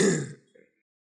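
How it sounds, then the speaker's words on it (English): A single person clears their throat in a quiet room, one short rough grunting rasp followed by a faint small catch and then silence. "Clear your throat."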